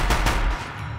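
Cannon fire in the video game Horizon Zero Dawn: two close, booming blasts in quick succession, each with a heavy low-end thump, followed by a fading rumble.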